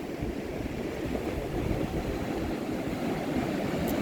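Steady broadband roar of surf breaking on a beach in Queensland, Australia, near the Daintree Rainforest, continuous and fairly loud with no distinct separate crashes and no voices.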